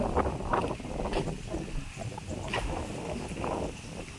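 Strong wind buffets the microphone in continuous rushing gusts, loud and close, with a steady roar throughout.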